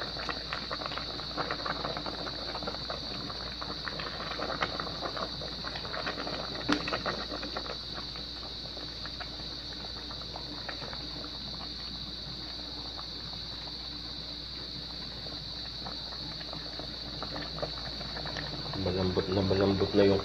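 A pot of paksiw na pata, pork hock with bamboo shoots, simmers with a soft, steady bubbling and faint patter under a constant high hum, rising slightly louder near the end.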